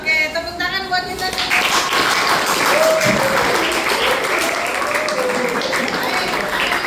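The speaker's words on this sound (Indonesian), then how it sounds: "Oke, tepuk tangan buat kita." Students in a classroom applauding together at the end of a lesson, a dense, even burst of clapping that starts after a short spoken moment and carries on steadily.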